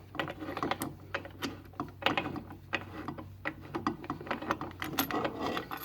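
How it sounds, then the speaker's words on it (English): Drive shaft being twisted out of a Johnson hydroelectric-shift outboard lower unit during teardown, giving quiet, irregular metallic clicks and ratcheting scrapes close by, with no talking. "I'll just kind of use whatever to hold it while I twist the drive shaft the rest of the way."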